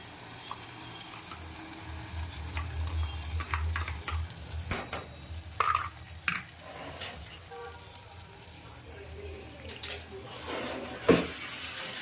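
A masala mixture sautéing in a pan, with a soft sizzle under the scrape and clink of a stirring spoon, and several close knocks along the way while people talk nearby.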